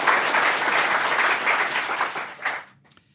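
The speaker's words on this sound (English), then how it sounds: "Round of applause, please." An audience at a literary talk gives a round of applause, dense steady clapping that thins out and fades to a few last scattered claps near the end.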